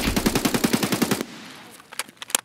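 AK rifle in Escape from Tarkov fires a fast burst of about a dozen loud, evenly spaced shots lasting just over a second, followed by a few scattered sharp clicks and clatters.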